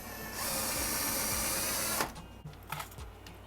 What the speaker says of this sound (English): And I'm going to drill that one into the wall right here.